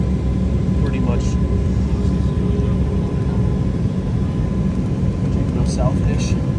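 An Emirates Airbus A380 airliner taking off at JFK airport, a steady broadband jet roar sustained throughout, loud and continuous with a low rumble, with faint higher sounds near the start and end.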